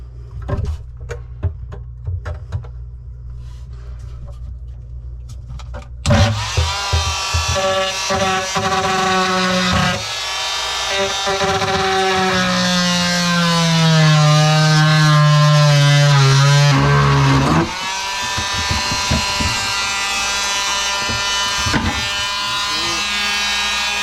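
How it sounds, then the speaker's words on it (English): Oscillating saw cutting through the wood of an existing kitchen cabinet during a remodel for a dishwasher; a loud steady buzzing whine starts after a few seconds of quiet handling, its pitch shifting and dipping as the blade bites, near and continuous. "Use the oscillating saw now to go through this."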